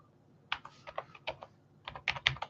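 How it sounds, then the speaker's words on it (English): Clicky keystrokes on a new computer keyboard come in two quick bursts of typing, close and fairly quiet, separated by a short pause with no talk. "I've got a new mouse and keyboard here"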